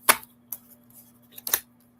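Tarot cards are shuffled in a few sharp, crisp snaps and flicks, close by and spaced out over a couple of seconds, with quiet between them and no speech.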